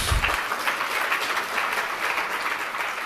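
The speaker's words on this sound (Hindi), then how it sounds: "ये तालियां हंसी की बनी है कि सही की बनी है?" Audience applause at a Jain religious discourse, a loud continuous roar of many people clapping together, steady throughout with no speech heard over it.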